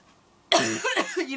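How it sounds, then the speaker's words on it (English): A single sharp cough bursts out of near silence, followed by a raspy, throaty vocal sound close to the microphone. "I've been coughing for a while"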